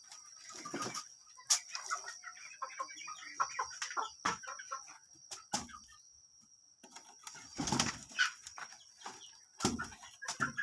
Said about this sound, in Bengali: আজকে সবগুলো মুরগি ছেড়ে দেবো।